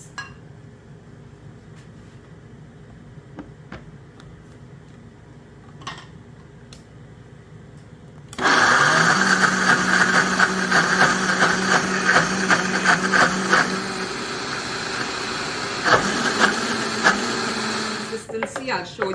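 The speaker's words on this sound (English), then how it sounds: "To this, we are going to add some of the onions and the sweet peppers, and we are going to blend this." A blender starts abruptly and runs loud and steady, whirring through onions and sweet peppers for a black bean burger mix, with quiet kitchen sounds and speech beforehand.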